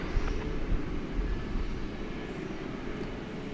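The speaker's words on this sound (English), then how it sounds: "Let's watch for American Flight 1793 coming in from Fort Lauderdale," An American Airlines jet approaching to land at DFW airport makes a steady, distant rumble. The low roar holds level throughout at modest loudness, with no talk over it.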